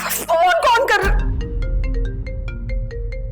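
A phone ringtone plays in a home drama scene, a repeating electronic melody of bright tones that enters after a voice breaks off and continues on its own.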